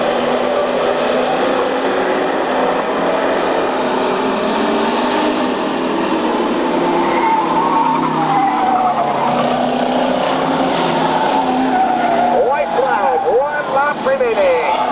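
Race cars lapping a track in a 1995 race, engines roaring loudly and continuously with tire squeal near the end, under an announcer's steady commentary.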